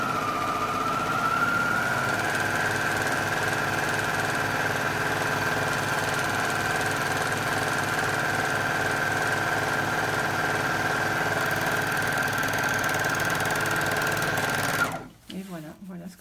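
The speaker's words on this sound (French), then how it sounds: "Donc là, j'effectue un ourlet roulé." A serger overlocker stitches a rolled hem with a fill thread that gives a puffy finish, a steady fast mechanical whir running continuously and close for about fifteen seconds before stopping abruptly.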